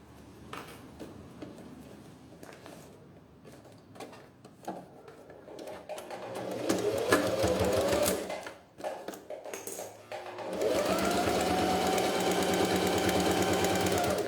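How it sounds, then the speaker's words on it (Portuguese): A sewing machine stitching a beach visor pouch runs in short bursts, then settles into a steady, loud mechanical whirr near the end. "Costurando com meio pé de máquina."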